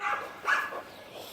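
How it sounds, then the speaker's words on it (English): A dog gives a couple of short yips or barks outdoors during a fetch-style training session, fairly close but not loud, with a brief quiet gap between the calls. "Like a good dog he is."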